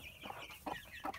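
A mother hen with two chicks clucking in short bursts, about three close calls spaced through the moment, clear and near with a bit of background noise.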